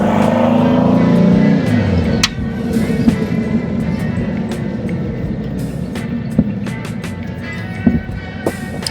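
A 1964 Baja Bug with a new Ace Racing engine drives along, its engine droning steadily from inside the car with a few sharp clunks and knocks over the running noise.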